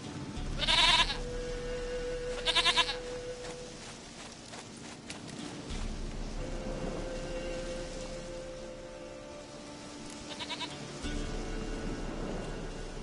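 A goat in The Witcher 3 video game bleats in two short loud bursts early on and once more near the end, over a steady game ambience with soft rustles and low tones between calls.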